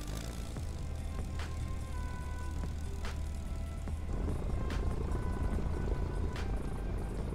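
A War Thunder aircraft engine starts and settles into a steady low drone, its tone rising and filling out partway through, with faint clicks and tonal beeps scattered over the hum.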